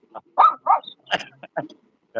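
A house dog gives a quick run of short, sharp barks and yips, close and fairly loud, spaced irregularly with brief silences between them.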